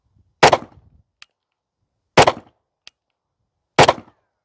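An M18 pistol fires three sharp, loud shots at target practice, each about a second and a half apart with a short echo trailing behind.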